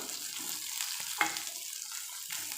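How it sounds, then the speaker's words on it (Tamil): Ginger, garlic and coconut sautéing in a pan for Chettinad fish curry, a soft continuous hiss with a faint stir or tap near the middle, quiet and close with no talking. "இப்போ இது நல்லா வதக்கி எடுத்துக்கலாம்"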